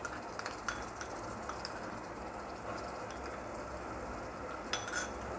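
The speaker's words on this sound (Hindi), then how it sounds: "अब इसमें हम जिंजर गार्लिक पेस्ट ऐड कर देंगे।" Ginger garlic paste goes into golden-fried onions in a pan for masoor pulao, followed by steady stirring: a soft background sizzle with light scraping and occasional clinks of a utensil against the pan, close and fairly quiet.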